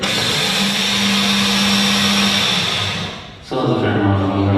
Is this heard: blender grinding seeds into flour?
yes